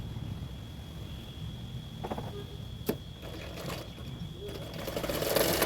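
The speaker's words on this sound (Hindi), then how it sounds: "तो इस पार्ट में भी मैंने बेल्ट को भी इसी तरह से सिलाई करूँगी।" A sewing machine stitches the belt of a double katori blouse with a faint, steady whir, broken by a few soft clicks and taps.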